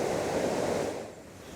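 A small stream swollen by heavy rain rushes steadily nearby, a broad continuous watery hiss that eases slightly toward the end.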